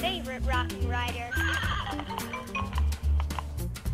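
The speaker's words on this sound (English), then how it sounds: "let's take a quick look at the Rockin' Rider, Diamond, the Talking Spring Horse." The Rockin' Rider Diamond talking spring horse toy plays a close, electronic neighing whinny mixed with clip-clop hoofbeats, in repeated bursts.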